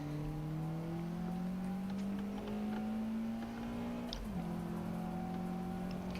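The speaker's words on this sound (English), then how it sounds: "Can barely hear you over the engine." A car engine runs steadily as a droning hum whose pitch climbs slowly, then dips briefly about two-thirds of the way through before settling. It plays close and continuous with no talking.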